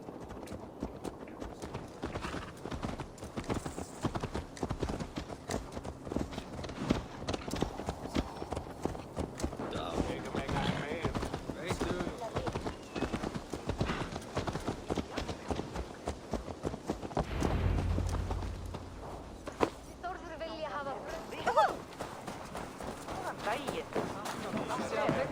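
Horse hooves clip-clop steadily through most of the stretch in Assassin's Creed Valhalla, mixed with other game sounds and possible voices at a moderate level.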